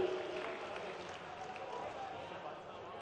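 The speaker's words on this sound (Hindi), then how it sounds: "एक बार जोरदार तालियों से किसान पुत्र मुख्यमंत्री डॉक्टर मोहन यादव जी को हम सब सादर आमंत्रित करें।" Steady clapping from a large crowd welcomes Chief Minister Dr. Mohan Yadav at an outdoor farmers' event for a Bhavantar scheme payment transfer, a dense, even wash of hands with crowd murmur mixed in throughout.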